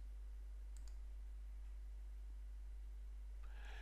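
Mouse clicks in Joomla Media Manager, a couple of sharp quiet clicks near the start and another near the end, over a low steady hum and no speech.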